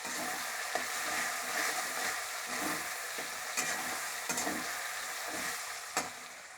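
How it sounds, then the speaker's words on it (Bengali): Spice paste fries in hot oil as a spoon stirs it, cooking shrimp with young jackfruit; a continuous close sizzle runs throughout, broken by regular scraping strokes and sharp clicks of the utensil against the pan. "মশলাটা আমি একটু নেড়ে দিচ্ছি।"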